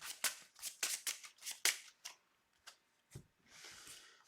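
Playing cards are shuffled back into a deck during a tabletop card game, with a quiet, close run of quick riffling snaps, a short pause, then a few softer flicks and a light final riffle.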